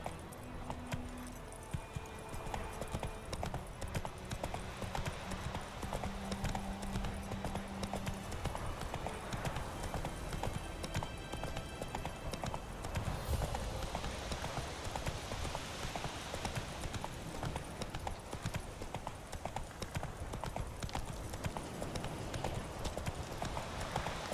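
A horse gallops through the world of the video game The Witcher 3, its hooves drumming in a fast, steady clip-clop rhythm that continues for the whole stretch under faint ambient background.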